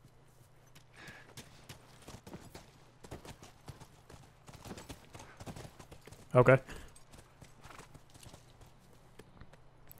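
Horse hooves clip-clop in the video game The Last of Us, soft irregular steps under a low hum, with one sharp louder burst midway and someone talking over it.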